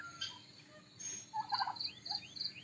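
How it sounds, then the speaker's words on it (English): A black turkey on a farm in India gobbles in a quick, faint burst of rattling calls, heard at a distance over a quiet outdoor background. "Oh, there's a black turkey."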